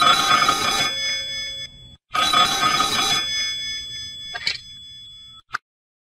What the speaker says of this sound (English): At that moment, the telephone rang.